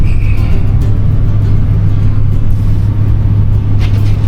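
A pickup truck drives on a snowy, unplowed road in four-wheel drive at around 30 mph, its engine and tire rumble a steady, loud, continuous drone throughout.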